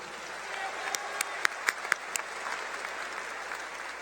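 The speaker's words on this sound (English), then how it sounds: "Let's give them a round of applause, too." Convocation audience applause for honored guests in a large hall, a moderate distant wash of clapping with a few sharp nearby claps popping out near the start, continuing evenly to the end.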